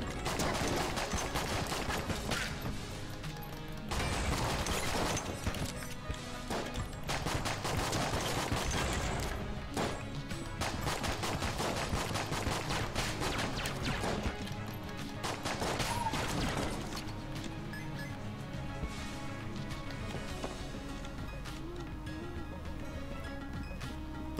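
Cannon firing in the co-op game Enter the Gungeon, its shots bouncing off walls and exploding: repeated booming blasts and rattling gunfire with crashes, continuous and loud across a hectic game mix.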